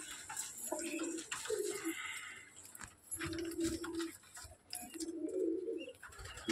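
Pigeons coo in repeated low, throaty bursts, several birds close by, with faint chirps and rustling between the calls.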